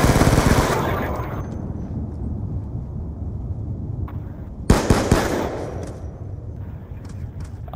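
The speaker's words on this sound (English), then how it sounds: "it's a gun battle" Gunfire crackles in a one-on-one video game gun battle, with a loud burst at the start and another sharp volley near the middle over a continuous rattling din.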